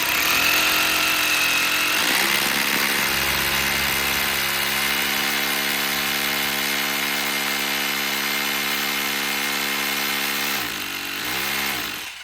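A power drill bores mounting holes for a DTH satellite dish, its loud, steady motor whine holding for about ten seconds before it slows and winds down, then revs briefly again; nobody speaks.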